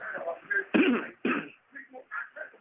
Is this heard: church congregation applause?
no